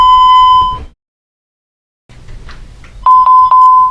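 A Vista 20p alarm panel keypad chime: a long tonal beep, a second of silence with faint handling noise, then three quick, loud, close beeps in a row.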